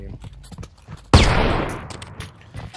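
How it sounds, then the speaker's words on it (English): A single loud gunshot or blast from a weapon in the VR shooter Pavlov VR on a Halo Zombie map, sharp onset with a long decaying tail, surrounded by faint game noise. "Somebody is shooting."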